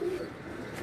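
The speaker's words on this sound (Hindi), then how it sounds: "अच्छा कबूतर है जी" Racing pigeon giving a short, soft coo close by, one low throaty note at the start, then quiet background.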